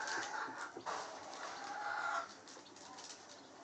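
Day-old Satpuda gavran chicks chirping and clucking softly in a short, busy cluster of high calls that fades toward the end.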